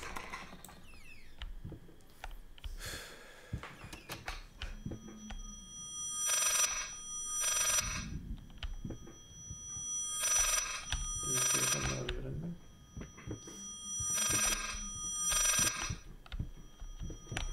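In the horror game Layers of Fear, an old-fashioned telephone bell rings in repeated bursts of about a second each, four rings spaced evenly, with footsteps, creaks and low game ambience beneath and no talking.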